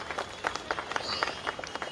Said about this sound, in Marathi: सगळ्यांनी टाळ्या जरा जोरात वाजवायच्या